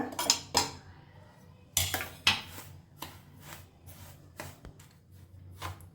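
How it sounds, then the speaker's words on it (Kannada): A spoon knocks against a bowl while sugar, cardamom and grated coconut are mixed together, making several sharp clinks and scrapes at an uneven pace, close up, with no talking. "ಒಂದು ಕಪ್ಪು ಸಕ್ಕರೆ, ಸ್ವಲ್ಪ ಏಲಕ್ಕಿ, ಸ್ವಲ್ಪ ಕಾಯಿ ತುರಿ ಎಲ್ಲ ಹಾಕೊಂಡು ಫಸ್ಟ್ ಮಿಕ್ಸ್ ಮಾಡ್ಕೊಳ್ಳೋಣ"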